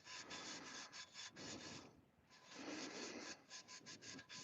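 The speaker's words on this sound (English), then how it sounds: "All I'm basically doing is just kind of sanding the mandrel bend marks out of it" Steady back-and-forth rasping of sandpaper on a metal exhaust header pipe, in rhythmic strokes with a short pause midway, close and fairly quiet.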